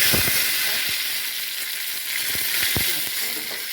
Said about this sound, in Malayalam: വെളിച്ചെണ്ണ നന്നായിട്ട് ചൂടായിട്ടുണ്ട് അതിനകത്തേക്ക് നമുക്ക് ഉലുവ ഇട്ട് കൊടുക്കാം